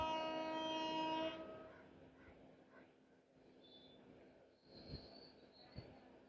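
A Tejas Express arriving at Vaibhavwadi station sounds a loud, sustained horn blast that cuts off after about a second, followed by faint distant rumble and a few soft thumps.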